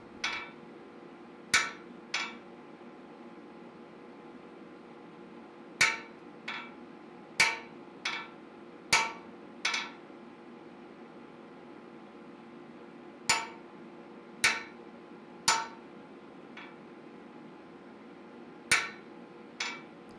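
A hand chisel is struck with a hammer while cutting into a hot forged steel katana pommel, giving sharp, ringing metallic taps spaced irregularly in small pairs and singles over a low steady hum, with no talking.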